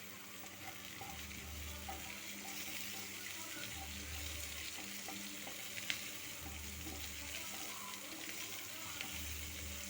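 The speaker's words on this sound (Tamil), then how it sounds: "அதையே கொஞ்சம் நல்லா வதக்கிக்கலாம்." Capsicum sautéing in a pan for chilli paneer gives a steady soft sizzle with faint stirring, continuous and fairly quiet.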